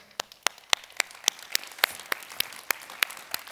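Sparse, evenly spaced single claps, about a dozen, ring out in a quiet room at a talk on the circular economy in Oslo, faint and unhurried rather than a full ovation.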